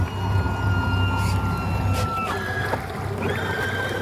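The power trim on the outboard motor of a 2017 Dorado 25 boat runs, a steady electric whine with tones that shift as the motor tilts up and down, heard over a low engine rumble.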